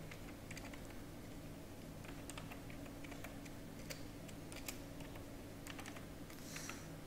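Computer keyboard typing while filling in a salary sheet in Excel, a steady run of quick clicking keystrokes close up over a constant low background hum, with no talk.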